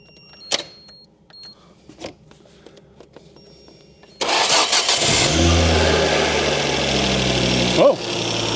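A Ford Focus ST that had refused to start gives a few faint clicks, then cranks on the starter and suddenly catches, settling into a loud, steady running engine with one brief blip near the end.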